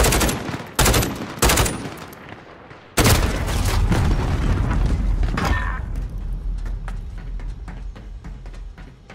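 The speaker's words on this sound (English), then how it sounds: "There's a bomb." In a video game, a few sharp gunshots ring out, then a loud bomb explosion booms and its rumbling blast decays over several seconds, with scattered faint shots continuing behind it.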